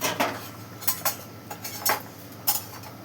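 Fried lentil dumplings are scooped from a pan with a metal utensil, making about eight sharp scraping clinks and taps at irregular intervals, close and clear with no talk.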